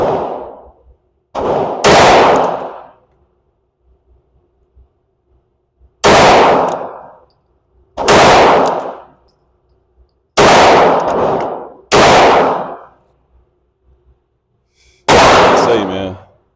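Range shots from a Glock 19 pistol striking a target, about seven loud, sharp reports with ringing decay, fired singly and in quick pairs with pauses between.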